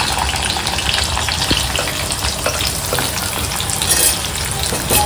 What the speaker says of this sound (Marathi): तेलात परतून घेऊया कांदा आपला